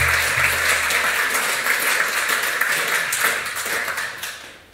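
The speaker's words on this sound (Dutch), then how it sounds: "Geef hem een ongelooflijk applaus" An audience at a talk on climate and neoliberalism applauds a speaker being introduced, a loud, dense burst of clapping that holds steady and then gradually tapers off toward the end.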